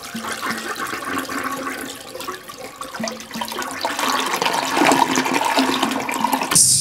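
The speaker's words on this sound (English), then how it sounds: "You go run into the bathroom and you go flush your seed down the toilet." A toilet flushes in a steady, loud rush of water for several seconds, then cuts off abruptly, with no other sounds.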